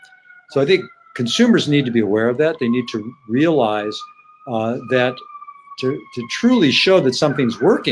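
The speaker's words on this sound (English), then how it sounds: "I apologize for the sirens" A passing ambulance siren wails faintly in the distance, its tone sliding up and down beneath someone speaking steadily close by.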